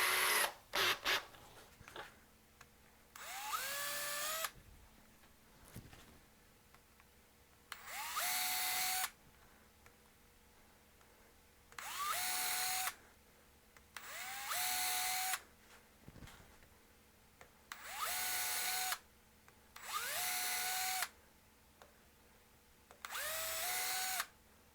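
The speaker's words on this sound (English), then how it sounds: "let's go down and let's pre-drill a few more holes." A power drill bores pilot holes into a wooden machete scabbard, six or seven short whirring bursts that spin up and stop in a regular rhythm, separated by quiet pauses, close and clear.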